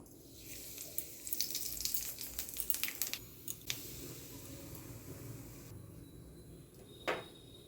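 Eggplant frying in hot oil with black cumin seeds, a soft steady sizzle with scattered crackles and a few clinks of utensils, quiet and close, no voices.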